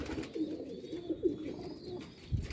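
A Sialkoti chuhe pigeon coos softly on a Sialkot rooftop, with low, rolling calls repeating close by and quiet background hum.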